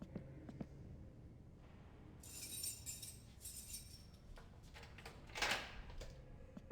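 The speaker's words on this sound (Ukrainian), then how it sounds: "ми почуємо, як офіцер відчиняє двері нашої камери" A police officer opens a jail cell door in My Summer Car, heard as a few clinking metallic clanks and a rattling slide over a low background hum, with one sharper, louder clank near the end.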